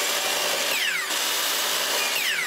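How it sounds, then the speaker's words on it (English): A miter saw squares the end of a piece of maple with a loud, continuous high whine, its pitch sliding as the blade bites into the wood and spins down. "maybe the miter saw will be better. So we're gonna test it with a short one, and we're gonna square off the end."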